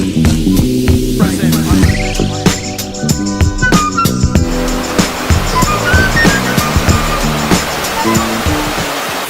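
A waterfall at Plitvice Lakes National Park roars steadily from close by, heard from its base with a constant loud rushing of spray that continues without a break.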